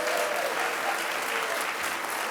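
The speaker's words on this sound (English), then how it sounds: "Can we give them a huge round of applause?" A crowd at a transit line grand opening and ribbon cutting applauds steadily, a dense wash of clapping that holds at an even level throughout, with faint voices mixed in.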